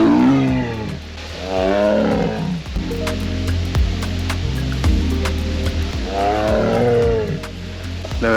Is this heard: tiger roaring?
yes